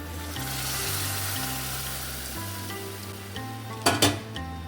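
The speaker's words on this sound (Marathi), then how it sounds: "आता ना आपण त्याला ना फोडणीमध्ये घालून घ्यायचं आहे." Cooked dal is poured into hot tempering for Rajasthani dal baati, giving a loud, continuous sizzle close up, with a brief clatter of utensils near the end.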